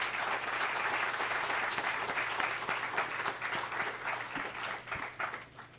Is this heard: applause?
yes